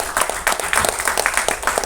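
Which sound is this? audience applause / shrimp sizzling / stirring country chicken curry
audience applause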